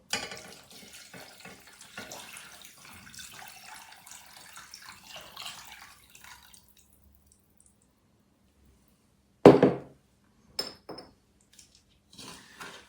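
A liter of water poured into a cabbage-and-beet marinade, a soft running trickle for about six seconds, then quiet with a few short clicks and clatters of kitchenware.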